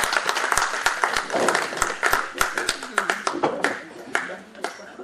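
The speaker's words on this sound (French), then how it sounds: "On l'applaudit encore une fois de plus, s'il vous plaît." Audience applause at a community project presentation in Paris, a room of scattered hand claps with sharp irregular strikes, moderately loud and sustained, with a voice speaking over it.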